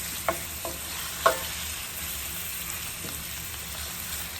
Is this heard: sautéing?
yes